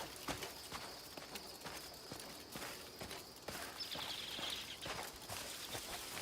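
Horse hooves in the video game Crimson Desert clip-clop at a steady walking pace, evenly spaced and moderately faint under a constant background hum.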